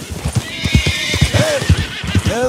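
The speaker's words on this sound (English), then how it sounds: "John is always distracted by the wild horses." A wild horse in Red Dead Redemption 2 neighs and whinnies in rising calls over busy hoof clip-clops, close and fairly loud.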